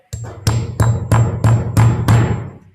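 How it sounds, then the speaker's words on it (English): Hammer blows punching small holes into a tin can to make a lantern: seven evenly spaced, sharp metallic strikes with a ringing tone, close and loud, no talking. "the less you hammer it in, the smaller the hole"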